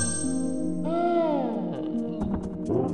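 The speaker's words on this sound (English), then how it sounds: "I feel like I should change the notification sound." A notification ding chimes from a stream alert during a Super Mario 64 Twitch session, a bright ringing tone over game audio with a few more short chiming tones following.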